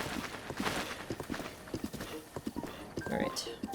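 Hooves of a horse in the video game Zelda: Breath of the Wild thud in an uneven trotting rhythm, close and moderately loud, with a faint whinny near the end.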